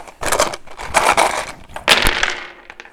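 Eight dice rattle and clatter together during a 1942 board game, a busy, loud burst of tumbling clicks and knocks close by with no talking.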